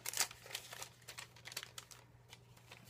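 Tape crinkles and rustles as it is peeled off a small bag, making quiet, close, irregular crackles and short tearing bursts with no talk.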